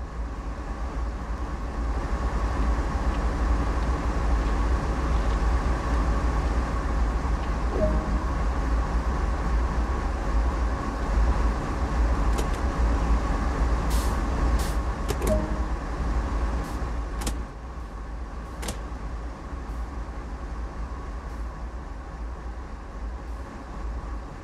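Steady rumble of a freight locomotive cab ride in Train Sim World 2 on the Sand Patch Grade: continuous low engine drone with faint clicks and brief high squeals near the middle, easing slightly quieter toward the end.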